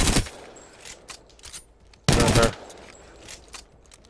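Bursts of automatic gunfire in Apex Legends, a first-person shooter: a loud sustained volley near the start, another strong burst midway, and scattered shorter shots between, with no talking.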